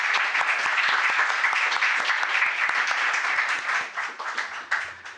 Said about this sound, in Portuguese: Queria pedir uma salva de palmas para a Roberta, por favor.